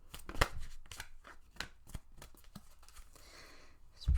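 Tarot cards shuffled in a single quick run of crisp riffling and tapping, close and fairly quiet, with no voices.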